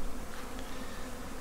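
A steady, fairly faint hum of many honey bees flying around nucs in an apiary, continuous and even with no voices over it.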